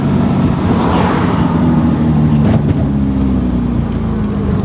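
A 1955 Aston Martin DB2/4 drop head coupe drives along, its engine humming steadily up close with a brief swell of road and wind noise; no talk is heard.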